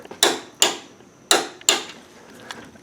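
A wrench tightens bolts on a third-generation Camaro or Firebird during a Detroit Speed Wonder Bar install, giving four sharp, close mechanical clacks at uneven intervals, each fading quickly, with no voices.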